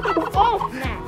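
Territorial male turkey gobbling at a zoo, a loud, close, rapid warbling gobble with a couple of sharp repeated bursts, heard alone.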